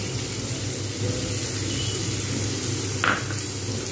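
Moong and masoor lentils frying in a pan for sabudana khichdi give a steady, close, even sizzle with one brief clink of a utensil partway through.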